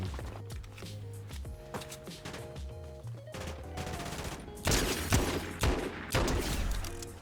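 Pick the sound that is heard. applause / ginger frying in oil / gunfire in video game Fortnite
gunfire in video game Fortnite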